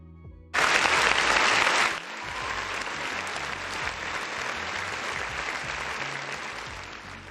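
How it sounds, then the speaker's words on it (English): Applause sound effect played during a gaming talk livestream: a sudden loud burst of clapping and cheering that stays dense for a moment, then settles into a steadier, quieter round of applause that keeps going. "Big round of applause for the folks in the chat."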